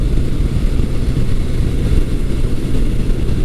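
A 1982 Suzuki GS750E motorcycle on a test ride around the block, its engine a loud, steady rumbling drone heard close and continuous, with no voices.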